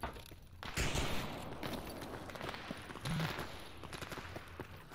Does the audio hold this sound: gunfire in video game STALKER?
yes